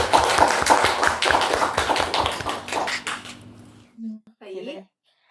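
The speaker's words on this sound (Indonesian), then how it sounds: "Nah, kita tepuk tangan dong ya." Audience clapping at an Indonesian university talk show with a rector, a dense burst of claps for about four seconds that cuts off abruptly, followed by brief speech.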